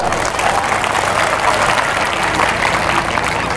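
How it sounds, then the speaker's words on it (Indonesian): A church congregation claps steadily and loudly, a dense sustained round of applause with no pauses. "tepuk tangan buat panitia dulu."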